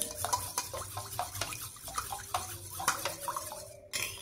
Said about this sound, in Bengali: এটা একটু ভালো করে নেড়ে চেড়ে নিতে হবে